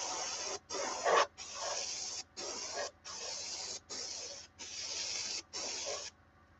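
Airbrush fed by an air hose sprays paint in a garage in eight short bursts, each a steady hiss lasting under a second, separated by brief silences, close and moderately quiet with no talk.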